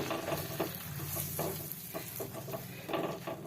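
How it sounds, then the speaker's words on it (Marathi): Two cups of besan (gram flour) roast in melted ghee in a pan over low heat, stirred continuously: a steady soft sizzle with repeated scraping strokes of the spoon, close and alone. "आपल्याला हे बारीक गॅसवरच भाजायचं आहे आणि कंटिन्यू आपल्याला याला हलवायचं आहे"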